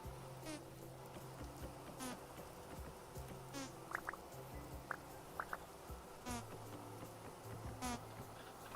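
Buzzing bees from a bee harvest in the video game Vintage Story drone in soft intermittent passes, with a few brief higher chirps mixed into a faint ambient game backdrop.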